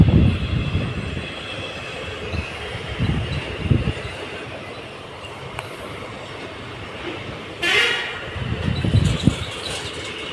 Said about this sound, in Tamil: டபுள் இன்ஜினோட போகுது பார்த்திங்கன்னா ரயில்.